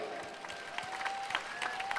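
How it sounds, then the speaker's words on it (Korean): Faint applause from an audience at a Korean film talk event, a soft continuous patter of many hands at a distance with voices faintly mixed in. "우리 두 분께 박수 한 번만 부탁드릴게요"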